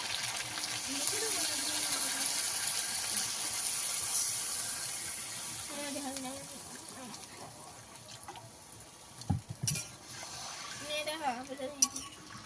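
A pot of fish curry broth bubbles at a steady boil, a continuous watery seething with occasional clinks and stirring knocks near the end.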